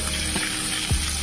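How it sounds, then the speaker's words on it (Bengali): Cauliflower pieces frying in oil in a wok give a steady, close sizzle with faint crackles, and the pan is shaken briefly by its handle. "দেখুন এটা ভাজা হচ্ছে।"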